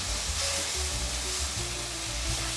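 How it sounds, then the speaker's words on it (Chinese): Loud steady sizzle of loofah, cucumber and mushrooms being stir-fried in a wok, a continuous close hiss with faint scraping and no talking. "快速翻炒"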